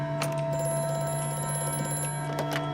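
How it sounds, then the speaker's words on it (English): An old-fashioned telephone rings in the horror game Amnesia: A Machine for Pigs, a sustained bright metallic ring with a few sharp clicking strikes over a low hum, close and without any speech. "Stop ringing. I'll get to you soon, phone."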